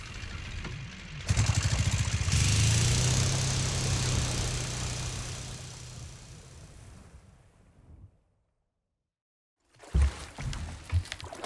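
Boat sinking in Resident Evil 4 Remake: a loud rumbling rush of water and churning engine-like drone swells and fades, then a short silence before more thuds and splashes.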